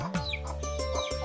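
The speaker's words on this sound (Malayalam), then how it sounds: "ഫാമിന്റെ ഒരു ഭാഗത്തായി കോഴി ഫാം സ്ഥിതി ചെയ്യുന്നു." Chickens on a poultry farm give a quick run of close, repeated clucks and short squawks, with no voices.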